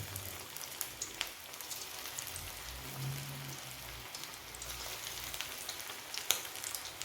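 Corn and spinach pakoras frying in hot oil, giving a steady low crackling sizzle that runs unbroken throughout, fairly quiet and without any voices.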